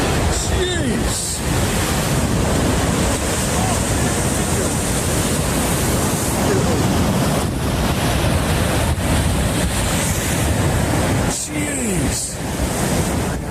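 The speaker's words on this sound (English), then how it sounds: "This is how snowmelt water rushes down what appears to be an old frozen stream." Snowmelt water rushes down an old frozen stream in a loud, dense, unbroken roar, with wind buffeting the microphone now and then.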